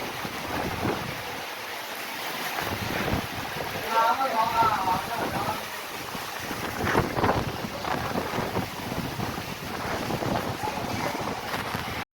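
Gusty storm wind buffets the microphone in uneven bursts during heavy rain, roaring and rumbling close up, with a continuous rushing noise beneath.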